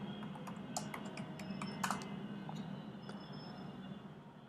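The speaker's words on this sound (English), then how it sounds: "I have to type the username," A computer keyboard being typed on at close range while entering a password on a machine, with quick, irregular soft key clicks in short bursts over a quiet background.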